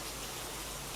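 Steady rain, a dense and even hiss that fills the whole second with no voices over it.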